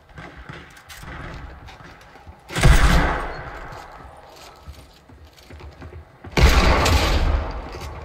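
Heavy bursts of hand cannon gunfire in Fortnite Battle Royale, two loud booming volleys over a steady rumbling background.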